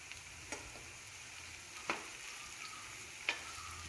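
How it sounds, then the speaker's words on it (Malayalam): Pieces of elephant foot yam fry gently in coconut oil in a pan, a soft steady sizzle broken by a few sharp clicks and scrapes of stirring. "ഞാൻ വെളിച്ചെണ്ണയിലാണ് വറുത്തെടുക്കുന്നത് കേട്ടോ."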